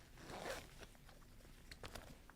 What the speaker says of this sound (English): It's also got the pit zips.